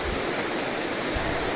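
Stream water overflowing a bank and pouring steadily into the water below, a dense, continuous rushing roar close by with no talk over it.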